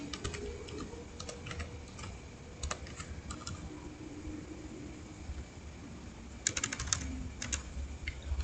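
Typing an IP address on a computer keyboard in a networking lab setup: quiet, scattered keystrokes in short bursts with pauses, and a denser cluster of clicks near the end.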